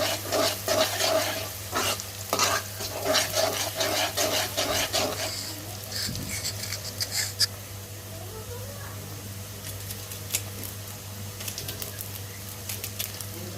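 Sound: onions frying in oil in a pan

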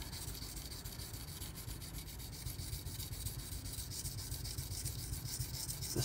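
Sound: kitchen knife being sharpened on Bernal Cutlery Takarazukushi whetstone

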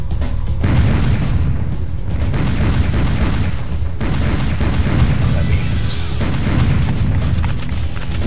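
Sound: rocket launcher firing in video game Serious Sam HD

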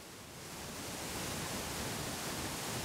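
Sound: waterfall rushing

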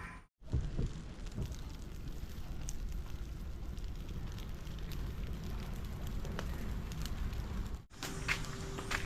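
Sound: wood fire burning

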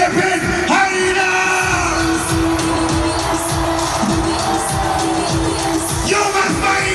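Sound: stadium crowd shouting at Philippine Arena rally

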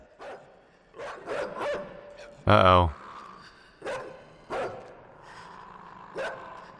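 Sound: dog growling and barking in the video game INSIDE

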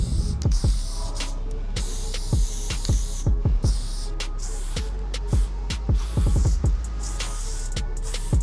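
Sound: spray can hissing downstairs

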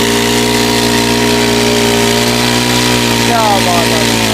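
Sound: water pump engine running

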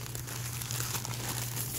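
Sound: tissue paper crinkling while unwrapping a gift

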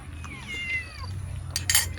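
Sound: cat meowing

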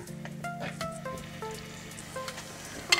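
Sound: chopped onions sautéing in hot oil

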